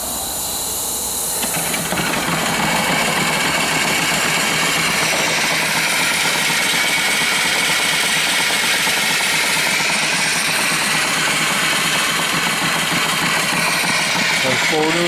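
A twin-cylinder steam engine with 3-inch bore and 3.5-inch stroke runs steadily with a loud continuous hiss and a rapid chuffing rhythm, close by, after a brief quieter start.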